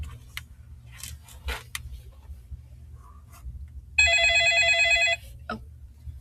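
Telephone ringing for an incoming caller: one loud electronic ring about a second long, set against faint clicks and quiet room noise.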